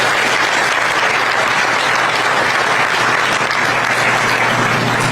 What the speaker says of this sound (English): Can we get another round of applause for all of our speakers?